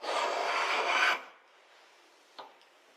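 One long rasping stroke of a hand plane shaves straight-grain jarrah to clear bandsaw marks, then quiet and a brief light knock.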